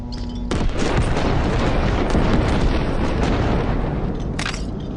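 In the Cyberpunk 2077 video game, a grenade blows up with a sudden loud boom, followed by a dense roaring rumble and crackling debris that sustains for several seconds before a brief second burst near the end.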